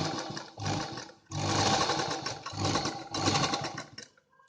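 A sewing machine stitches a side seam on an A-line kurta in several close bursts of rapid whirring, separated by short pauses, with no voices.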